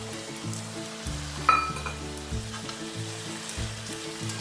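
Jackfruit seeds sizzle with spices in a pan, a steady close frying hiss with low stirring scrapes and one brief metallic clink near the middle; nobody speaks.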